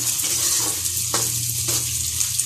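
Moong dal and chopped onion fry together in a pan with a steady sizzle, broken by a couple of brief stirring scrapes partway through; no voices.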